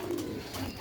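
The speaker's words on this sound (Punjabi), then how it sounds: "ਆਊਟ ਕਲਾਸ ਸਿਆਲਕੋਟੀ ਨੂਰਦੀਨ ਵਾਲੇ ਬਟੇਰੇ ਕਬੂਤਰ" A Sialkoti Nurdin breed pigeon gives a short, low coo, close by and alone, lasting under a second.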